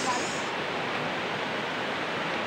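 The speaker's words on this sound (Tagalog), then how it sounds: "Yan ang Bunsuran Falls." Bunsuran Falls, a waterfall near a river, pours as a steady, dense broadband rush that stays even and fairly close throughout, with no voices over it.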